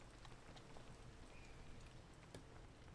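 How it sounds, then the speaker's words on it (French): Steady, even rain hiss in the video game PEAK, a constant wash of drops with a few brief louder taps, no talk. "il pleut beaucoup là"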